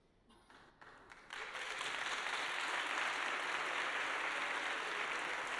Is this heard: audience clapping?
yes